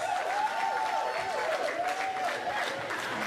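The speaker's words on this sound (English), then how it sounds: "Please, a round of applause for him, please." Guests at a marriage blessing reception applaud Papa Festus, a steady, fairly distant patter of crowd clapping throughout, with a voice calling out over it.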